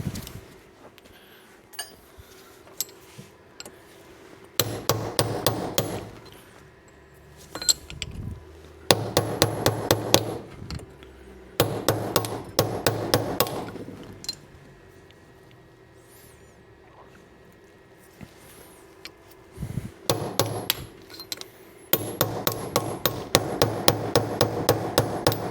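Hammer blows on the front differential of a 2016 Ram 1500 during a 3.92 gear repair, coming in several bursts of rapid metallic strikes separated by quieter stretches.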